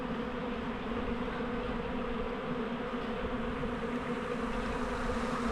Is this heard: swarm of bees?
yes